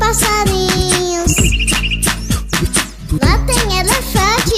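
Bird chirps inside a Portuguese children's funk song about animals in a backyard, with high repeated tweet notes over a steady beat and sung vocals, loud and close.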